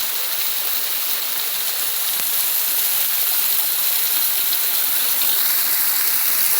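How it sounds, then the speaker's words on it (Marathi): A roadside waterfall in a forest roars steadily and loud, a dense unbroken rush of falling water with no voices. "मधोमध आपल्याला हा धबधबा पाहायला भेटतो"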